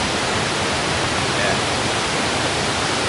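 A waterfall at a tourist site in North Korea, a dense, steady roar of falling water filling the whole clip at close range, with one brief spoken word over it.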